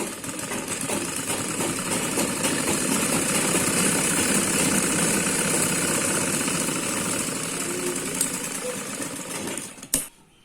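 Sewing machine stitching along the collar of a long umbrella frock, a steady droning motor hum running continuously for several seconds before stopping abruptly near the end.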